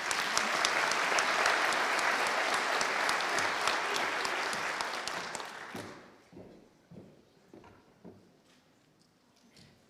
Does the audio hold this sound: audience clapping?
yes